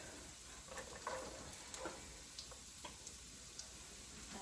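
Rice browning in a pan with a small onion for Mexican rice, a faint, steady sizzle with scattered soft ticks and pops, quiet and close, no voices.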